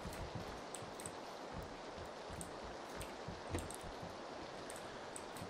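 Rain falling in PUBG Battlegrounds, a soft continuous patter with scattered brighter drops and faint tapping steps, quiet and steady with no talk.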